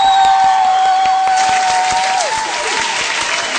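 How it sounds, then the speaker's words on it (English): Applause sound effect played during a live music show, a dense burst of many hands clapping at close, steady loudness, with a sustained tone fading out under it. "Oh, the clapping effects."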